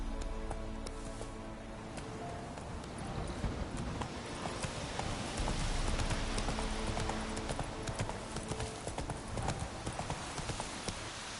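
Horse hooves clip-clopping in a steady galloping rhythm in The Witcher 3, loud and continuous throughout, with game ambience beneath.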